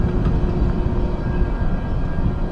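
CSX freight train I-166, bound from Schiller Park in Chicago toward Buffalo, rolling past with its last cars: a steady, loud low rumble and rail roar with no voices.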